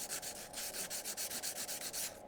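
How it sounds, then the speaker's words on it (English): Paint is quickly scrubbed off an oil pan surface, giving fast, rhythmic, close rubbing strokes with a steady gritty scrape and no talk. "I'm gonna go ahead and clean that paint off real quick while it's still easily accessible."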